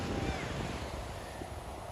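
Ocean surf and strong wind at Coney Island beach in Brooklyn make a steady broadband roar that does not let up, with wind buffeting the microphone and faint distant sounds from the beach.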